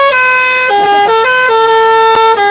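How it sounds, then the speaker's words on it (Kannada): A heavy goods truck's musical multi-tone horn blasts loud and close, running through a stepped melody of sustained tones that shift pitch several times without a break. "Horn hockey sir ಇನ್ನೊಂದ್ಸಲಿ."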